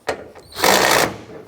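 A power tool snugs bolts on a Chevrolet Express van during wiper transmission work: a short blip, then a half-second whirring burst, close and loud.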